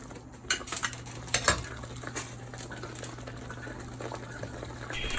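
Potatoes go into a pan of tomato, chilli and turmeric masala for a South Indian potato curry, with clinks of a spoon against the metal pan, stirring scrapes and a soft steady sizzle underneath.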